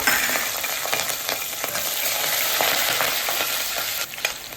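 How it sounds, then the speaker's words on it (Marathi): Green chillies sizzling in oil with garam masala for kolambi bhat, a steady loud crackle with occasional stirring clicks, alone without voices. "हिरव्या मिरच्या परतून घेतल्या."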